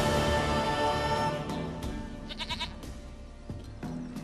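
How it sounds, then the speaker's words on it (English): A goat bleats repeatedly in The Witcher 3, wavering nasal cries over a dense bed of game music and ambience, several calls in a row at moderate loudness. "Goat of mine, dearest, sweetest goat."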